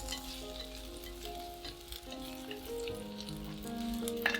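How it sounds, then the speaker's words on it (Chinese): Quiet, steady sizzling of cinnamon, star anise, dried chilies and bay leaves frying in hot scallion oil, with faint crackles and soft background music, no talking. "桂皮、八角、干辣椒和香叶倒进来爆香"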